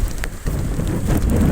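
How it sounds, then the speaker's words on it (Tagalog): Strong typhoon wind and heavy rain lash Malabon during Typhoon Carina, a dense, steady roar of rain and gusting wind filling the whole span with no voices. "Galit na galit yung hangin."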